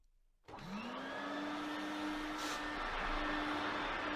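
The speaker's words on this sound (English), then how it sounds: "pushed the vacuum cleaner up and down" A vacuum cleaner switches on and runs on carpet, its motor whining up to a steady, loud, close drone that holds for several seconds.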